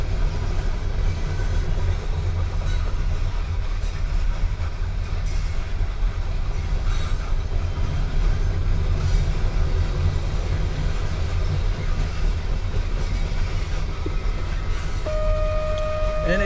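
A loaded Norfolk Southern coal freight train bound for Bow, New Hampshire rumbles past at North Adams, Massachusetts, a loud, continuous low roar of wagons with rail clatter throughout and a brief high squeal of wheels near the end.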